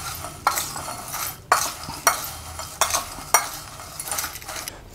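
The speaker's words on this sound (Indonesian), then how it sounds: "Kemudian kita aduk." A spoon scrapes and clacks against a bowl while tofu ball batter is stirred with seasoning, giving about seven sharp strokes in an uneven rhythm, close and alone without talk.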